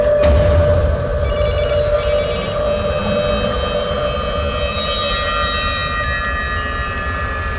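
A telephone rings with a steady electronic tone, loud and close, continuing without pause and no talking over it.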